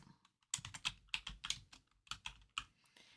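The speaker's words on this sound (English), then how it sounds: "So I'll just type on it." A run of quiet computer keyboard keystrokes in irregular bursts, individual taps clicking close by with short pauses between groups, no one talking.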